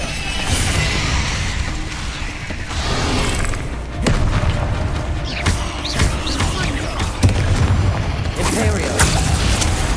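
Expelliarmus disarming spells fire in the Hogwarts Legacy video game amid a busy fight, with repeated sharp booming cracks and crashes over a continuous low rumble.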